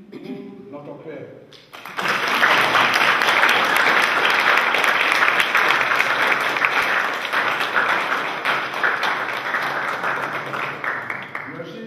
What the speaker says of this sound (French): Nous allons applaudir pour notre Père.